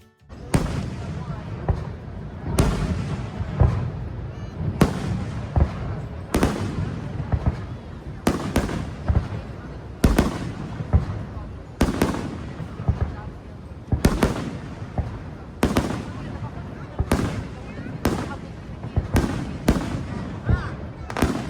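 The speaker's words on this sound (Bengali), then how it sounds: "এখানে যে ফায়ার ওয়ার্কসটা হয় সেটা কিন্তু দুই সাইড থেকে খুব ভালো দেখা যায়" Fireworks at Niagara Falls burst in a steady series of loud, sharp booms and crackles, one roughly every second or two, with echoing tails and a faint murmur of a crowd underneath.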